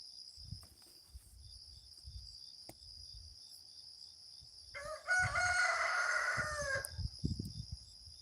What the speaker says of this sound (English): Some guy gave my dad some roosters.